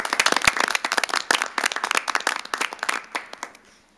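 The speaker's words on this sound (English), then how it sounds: "One more round of applause for you folks." A small group at a city council meeting claps in a short round of applause, sharp individual claps close by and thinning out toward the end.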